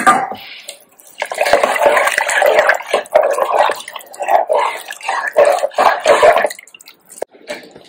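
Water, about six cups, poured from a vessel into a pressure cooker holding rice for vegetable pulao, a close, loud splashing gush in uneven surges with brief pauses between pours, no talking.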